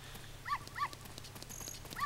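In The Legend of Zelda: Ocarina of Time, a white dog gives short, faint, high yips and whimpers, three of them spread across a quiet game background.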